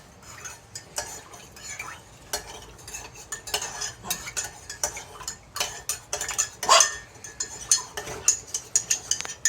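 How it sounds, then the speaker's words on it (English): A spoon stirs sugar into a cup of espresso, tinkling and scraping against the ceramic in quick, irregular clicks, close and fairly quiet with no talking. "Stir that sugar in so you can feel it all dissolve."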